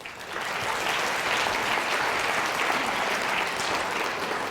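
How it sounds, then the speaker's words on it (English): Steady, dense applause from a seated audience at an orthodontist study group talk, loud and sustained for several seconds with no talking. "Give him a round of applause."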